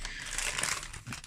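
Package wrapping crinkles and crumples steadily as a subscription box parcel is opened by hand, close and continuous for a brief moment with no talking.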